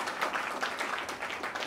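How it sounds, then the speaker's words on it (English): A festival audience claps steadily at a theatre film event, a dense, even patter of many hands sustained throughout without pause. "एक बार सब अपने लिए जोरदार तालियां"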